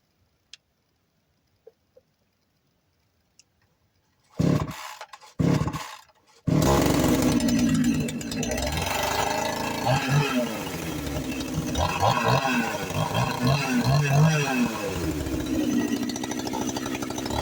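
A cheap Chinese chainsaw starts after a few faint clicks and short pulls, sputters briefly, then catches and runs loudly with a rough, buzzing two-stroke roar that revs and holds for over ten seconds.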